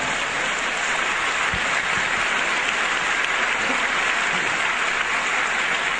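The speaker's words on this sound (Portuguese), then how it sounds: "Você pode aplaudir ao Senhor." A church congregation applauds during a sermon, a steady, dense wash of clapping that holds evenly throughout and sounds much like heavy rain.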